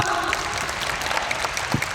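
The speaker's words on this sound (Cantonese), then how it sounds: "俾啲掌聲我哋老闆好嗎？" A crowd at a company training event claps for the boss in a dense, continuous burst of applause, steady and fairly loud with no voices standing out.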